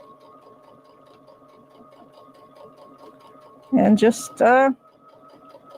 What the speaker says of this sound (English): I'm just going to go ahead and sew.